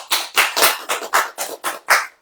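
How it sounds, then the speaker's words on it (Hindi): A congregation at a church service claps hands in several broad bursts, roughly eight loud smeared bursts in irregular rhythm over about two seconds, close and full, with no talk over them. "ताली बजेगी नहीं?"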